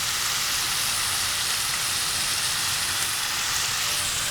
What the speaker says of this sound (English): after we saute our aromatics and we get some sesame oil and Coke into here